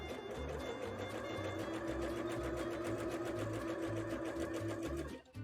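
A sewing machine stitches fabric for a bra, running in a steady rapid rhythm close by, then stopping abruptly at the end.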